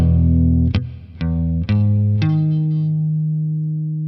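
Distorted electric guitar plays a riff, with muted chucks between chord hits before a power chord rings out and slowly fades, heavy and close with no talking.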